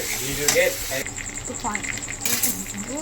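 Spiced masala for Gobindobhog rice khichuri fries and is stirred in a pan, a soft continuous sizzle with scraping stirs, heard beneath a person talking.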